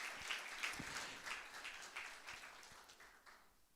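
A church audience applauding during a sermon, a moderate round of many hands clapping that gradually fades, heard at some distance.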